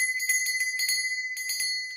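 A handbell rings in a quick run of bright metallic strokes, clear and close, with sustained high overtones and no talking.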